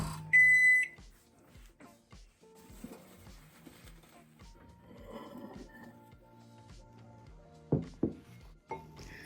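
A microwave oven runs for two minutes to reheat dal, with a steady low hum, scattered clicks and soft knocks, a loud beep at the start and a few sharp beeps and clunks near the end.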